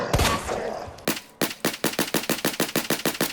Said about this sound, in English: it took 12 shots from the JMB to take down the zombie